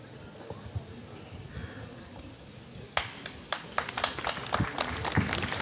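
Audience applause for guests at a district children's science exhibition inauguration ceremony, a scattered burst of claps that starts partway through over a low murmur of room noise and stays moderately loud.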